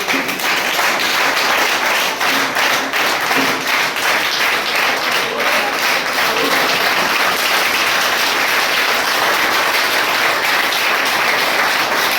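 An audience at a motivational education meeting claps hard with hands raised, a dense, loud, unbroken burst of applause filling the whole stretch at an even level.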